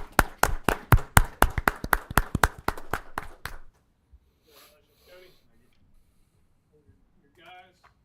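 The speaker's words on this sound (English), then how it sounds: "Everybody give them a round of applause." A small group clapping briefly after a congratulation at a gathering, loud irregular claps for about three seconds, then quiet room with faint voices.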